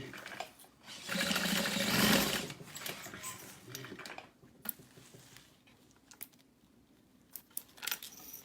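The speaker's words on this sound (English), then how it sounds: "we're going to sew here using a 3/8 inch seam allowance" A sewing machine runs a long burst stitching a 3/8 inch seam on a backpack, then stops and gives a few short back-stitch bursts with quiet handling sounds between.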